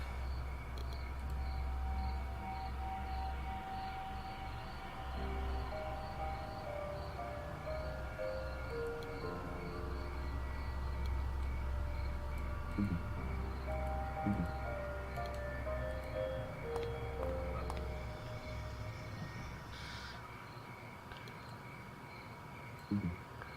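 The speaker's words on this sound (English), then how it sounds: "Dans le train, j'imagine." Inside a moving train, a continuous low rumble runs with a steady tonal hum and faint squeals, while scattered clicks and clanks from the carriage come and go.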